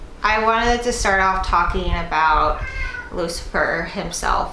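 A pet cat meows loudly and repeatedly in long, drawn-out, song-like cries close by, overlapping with someone talking.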